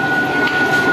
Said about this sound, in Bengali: তো গাইজ আমাদের ট্রেন ঢুকে গেছে, এই ট্রেনে করেই আমরা বাগনান যাব।